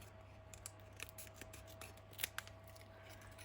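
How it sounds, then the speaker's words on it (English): Scissors snip paper around the edge of a junk journal page in quiet, close, irregular cuts. The small crisp clicks and rustles come over a faint steady hum, with a couple of sharper snips near the end. "I'm just going to cut around the edge."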